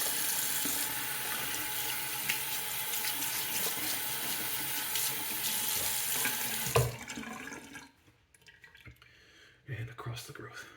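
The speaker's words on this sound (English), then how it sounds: "Rinsing off my hands because I don't want this razor to slip." Tap water pours steadily into a sink while hands are rinsed during a shave, a loud continuous rush that cuts off abruptly, followed by a few drips and a short splash.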